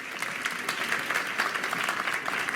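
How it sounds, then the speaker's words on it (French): A crowd applauds a singer at a live event, a continuous even wash of clapping heard at moderate distance without a break. "on peut l'applaudir très très fort s'il vous plaît"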